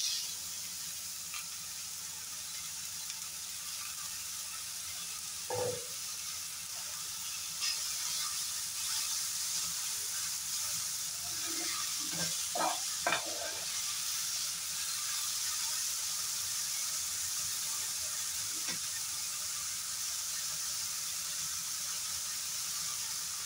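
Chopped tomatoes sizzle and hiss steadily in a pan for a zero-oil vegetable dish with cauliflower and potato, with occasional scraping clinks as the mixture is stirred.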